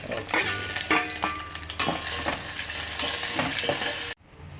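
Cashews and raisins fry in ghee with a steady, close sizzle, while a spoon stirs and scrapes through them. The sound cuts off abruptly just before the end.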